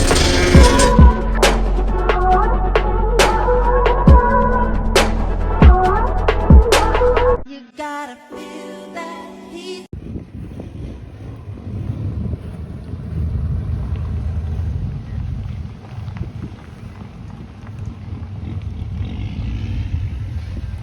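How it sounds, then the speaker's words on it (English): Six DS18 15-inch subwoofers in a 4th order enclosure powered by 8,000 watts during an SPL run, producing heavy, loud sustained bass rumble that fills the clip after a brief burst of music at the start. "showcase an SPL run featuring 6 15-inch subwoofers and a 4th order enclosure"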